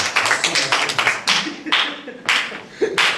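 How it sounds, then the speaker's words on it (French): A small group claps in short bursts, several separate rounds of fairly close hand clapping over a few seconds, with some voices in the background. "On applaudit."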